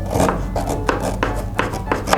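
A knife chops peeled fruit on a board in quick, uneven strokes, about eight sharp close thuds over a couple of seconds, with no talking.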